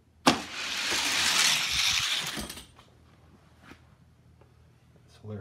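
Diecast toy cars racing down a speed test track: a loud rolling rush for about two seconds that cuts off, followed by quieter small clicks and rattles.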